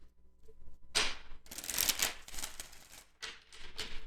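Tarot cards shuffled in three quick riffling bursts, crisp papery flutters close to the mic with short gaps between, no talking.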